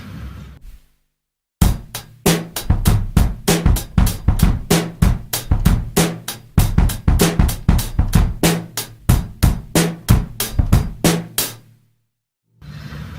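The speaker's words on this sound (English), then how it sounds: "Let me give you an example of what these 16th note bass grooves can sound like." A drum kit plays a groove built on busy 16th-note bass drum patterns, with steady hi-hat strikes and snare accents in a dense, driving rhythm, loud and close, ending in a brief pause.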